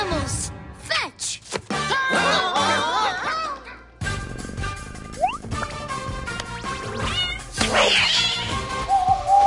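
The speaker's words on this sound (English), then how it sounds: "One kitty cat" A cartoon cat meows in a children's animated episode, several expressive mews over a busy score with effects and character voices talking around it.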